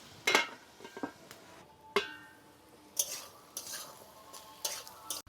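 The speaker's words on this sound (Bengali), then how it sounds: "এর আলুর সাথে পেঁয়াজটাও ভেজে নেব।" Potatoes and chopped onions fry in a pan with a light sizzle, broken by intermittent scraping stirs and clinks from a utensil against the pan, close and fairly quiet.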